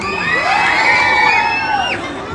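A loud crowd cheers and shouts continuously, with children's high-pitched whoops rising above the roar.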